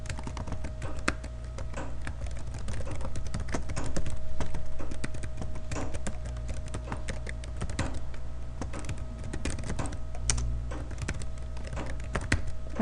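Rapid, irregular clicking of keys on a computer keyboard, close and continuous, with no one speaking.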